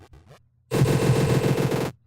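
An explosion in a steampunk video game bursts out loud and dense after a brief lull, a rapid rattling roar that holds for over a second before cutting off abruptly.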